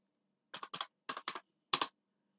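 Computer keyboard typing in Python IDLE comes in six quick, quiet bursts of a few keystrokes each, spread over about two seconds, with silence in between.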